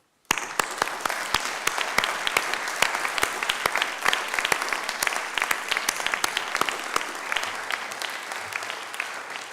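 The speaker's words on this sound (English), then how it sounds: "please join your hands together and actually help and applaud the people who have helped you" A graduation hall audience applauds the helpers of the graduands, dense steady clapping starting abruptly and holding at an even level for nearly ten seconds with no voices over it.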